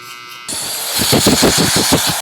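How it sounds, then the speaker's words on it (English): Electric barber trimmers switch on abruptly and buzz loudly up close, shaving the bottom of a bald fade bare, their whirring pulsing slightly as they run. "take my sharpest trimmers and get the bottom as bald as I can"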